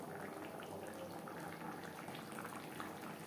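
Silver carp curry with capsicum simmers in a pan, a quiet, continuous bubbling and soft sizzle with no talking.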